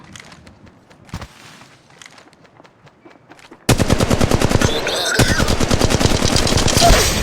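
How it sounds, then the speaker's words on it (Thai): Sustained rapid gunfire in the mobile battle royale game Apex Legends Mobile: scattered quieter shots at first, then a loud, dense automatic burst that continues steadily to the end. "กำลังโดนยิง"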